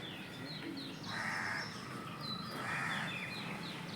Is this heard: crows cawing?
yes